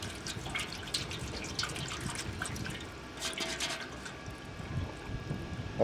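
Water running and dripping into a welded aluminium pot, a continuous splashing trickle with small drips, close and steady, no talking.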